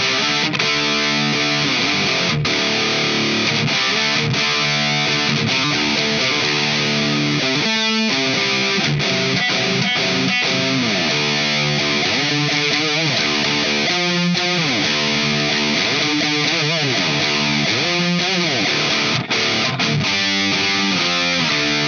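Electric guitar driven through a Walrus Audio Ages overdrive pedal into the second, blue channel of an EVH amp, playing continuous loud, saturated riffs and chords alone with no talking.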